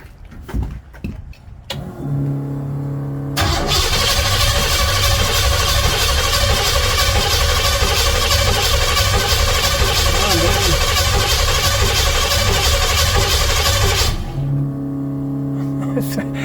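A Ford Anglia street rod's engine cranks briefly, then catches and runs loud and close for about ten seconds before dropping back, with voices nearby.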